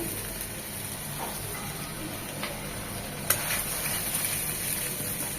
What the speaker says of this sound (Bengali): এখন মশলাটা খুব ভালোভাবে কষিয়ে নিতে হবে